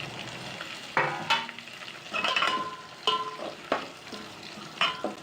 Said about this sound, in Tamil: ஜீரகம் கருகாத அளவுக்கு லைட்டாக வதக்கி எடுத்தால் போதும்